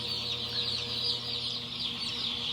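Young chicks being started for a new season on a chicken farm, a steady chorus of high peeping close by with soft clucks mixed in beneath a low background hum.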